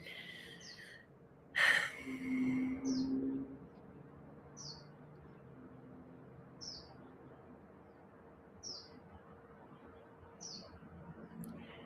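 Short bird chirps repeat at regular intervals in the distance over a quiet outdoor hush, after a brief breathy sound near the start.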